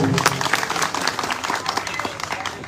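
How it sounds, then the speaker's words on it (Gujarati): A crowd at a public gathering gives a brief round of brisk, dense applause for MLA Gopalbhai Italia, the clapping steady and close throughout. "સૌ પ્રથમ તો આપણે ગોપાલભાઈ ઇટાલિયાને તાળીઓના ગડગડાટથી વધાવીએ।"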